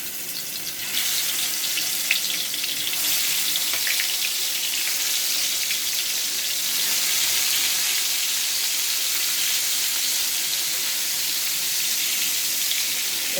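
Fish dropped into hot oil in a pan, setting off a loud, steady hiss and sizzle that starts abruptly and goes on throughout, close and without talking.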